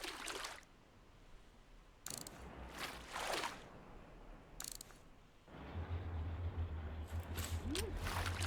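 Modded sub-miner in Scrap Mechanic running its sweeping, grinding collector arm, heard as repeated mechanical whooshing strokes with ratcheting clatter over a low steady hum that grows louder toward the end.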